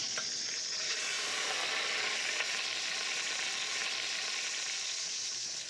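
Garlic sizzling in hot oil for a Barolo-braised beef dish, a continuous fine crackling hiss that stays even and close throughout, with no talking.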